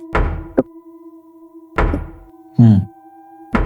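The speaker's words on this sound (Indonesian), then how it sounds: "dia mendengar suara orang mengetuk pintu kamarnya" Knocking on a bedroom door comes in slow, regular single raps, a couple of close pairs, spaced apart against a faint steady hum, each knock a dull near thunk with no voices.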